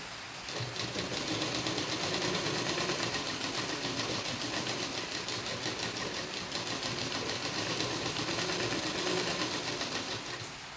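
A sewing machine stitches a V-neck blouse, its steady rapid needle chatter running continuously and close with no talk.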